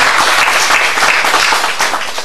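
Guests applauding at a dinner show in Masan, a short burst of loud, dense clapping from a seated crowd.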